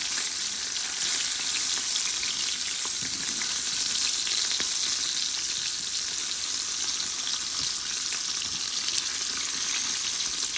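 Eggplant frying with fish in hot oil in a pan, a steady, close hiss of sizzling that runs unbroken throughout, with a few faint knocks of a utensil and no talk.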